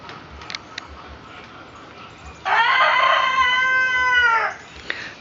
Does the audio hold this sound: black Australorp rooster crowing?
yes